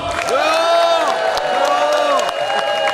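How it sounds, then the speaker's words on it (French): A crowd cheers and whoops with some clapping at an outdoor town festival event in Perwez, loud and continuous, with voices calling out over it. "Richard, je vous demande un tonnerre d'applaudissements."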